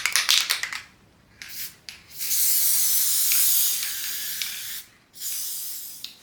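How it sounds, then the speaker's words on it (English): Bursts of fine mist from a spray bottle wetting fabric straps: several quick hissing squirts at the start, then longer sustained sprays, close and clear with no talk. "I'm going to give them a little spray."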